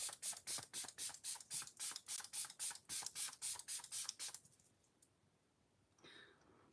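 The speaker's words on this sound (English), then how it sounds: "So now we're going to go in with some setting spray." A Dalba First Spray Serum facial mist is pumped in a rapid run of about fifteen short, close sprays, followed by quiet.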